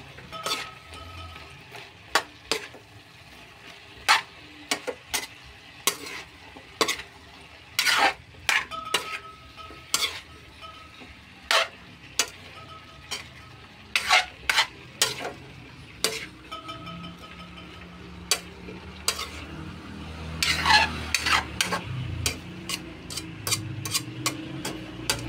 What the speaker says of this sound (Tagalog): Ihalo na natin.